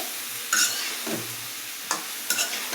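A spoon stirring fish and potato curry in a frying pan, with a soft sizzle running underneath and a few sharp scrapes of the utensil against the pan.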